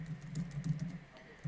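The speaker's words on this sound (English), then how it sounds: "So when I start typing" Steady, quick typing on a computer keyboard, a run of close, soft key clicks with a brief pause near the end before a final burst.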